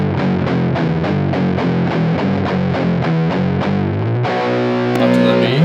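Fuzzy, distorted electric guitar from a PRS Dragon III on its lead pickup, playing a steady run of picked notes that swell into a brighter sustained chord near the end, loud and close with no talking.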